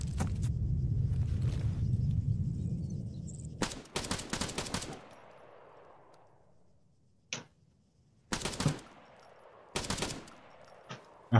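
Gunfire in the Arma military video game, with bursts of rapid automatic shots separated by quieter gaps and echoing tails, followed by several short sharp volleys.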